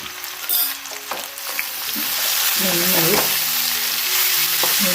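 Spices are stirred into green mango chutney frying in a pan, giving a loud steady sizzle with scraping spoon strokes and clinks across the mix.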